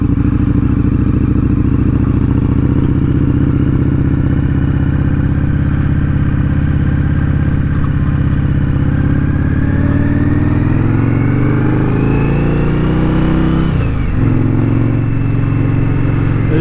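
An Indian Scout Bobber motorcycle engine idles and revs with a deep burbling exhaust note from an aftermarket exhaust, pitch climbing and falling near the end.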